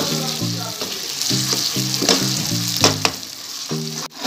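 Tomatoes and masala spices frying in a pan for golla kabab, a steady close sizzle with stirring scrapes, and a few soft clinks near the end.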